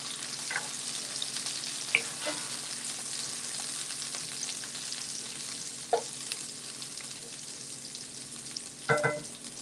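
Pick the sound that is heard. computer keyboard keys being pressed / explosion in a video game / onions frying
onions frying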